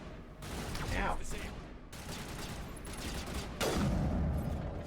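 Gunfire in the first-person shooter Legendary, with sniper shots among dense bursts of shooting and impacts over continuous game noise, loud and near, with a strong hit near the end.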